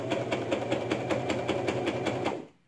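A sewing machine stitches the sleeve seams of a black dress, its needle beating in a fast, even rhythm close by before cutting off at the end.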